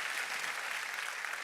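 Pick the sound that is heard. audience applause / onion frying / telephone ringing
audience applause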